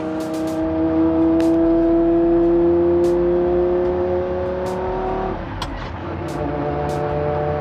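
Lamborghini engine revving steadily around 5,000 RPM, heard from inside the cabin with windows up: a loud sustained drone with a tonal whine that shifts and drops near the end, with no talk over it.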